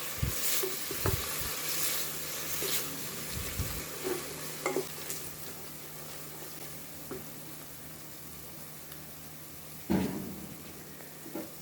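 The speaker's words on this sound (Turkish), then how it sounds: "Kızan yağın içine bir adet büyük boy doğradığımız soğan ilave ediyoruz." A large chopped onion sizzles steadily in hot oil nearby, broken by occasional scrapes and knocks of a utensil stirring the pan.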